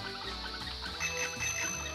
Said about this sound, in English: Unicycles don't have bells.